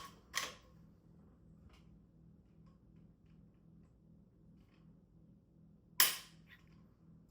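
Trigger of a Ruger Alaskan rifle in .35 Whelen breaking on a trigger pull scale, two isolated sharp clicks about five and a half seconds apart, close and quiet over a faint background hum.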